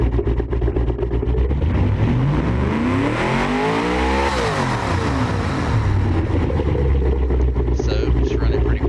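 An engine runs steadily on a test stand in the Automation game, with the revs climbing and then falling back in a loud, continuous drone that has no speech over it.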